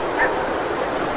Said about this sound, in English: Coyotes, yep.